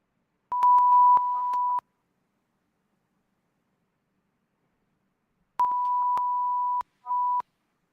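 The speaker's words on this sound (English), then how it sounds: "Sean, my second set of beeps were way better than my first set of beeps." Two bursts of steady electronic beeps, each a short run of tones with brief gaps, separated by several seconds of silence; clear and close.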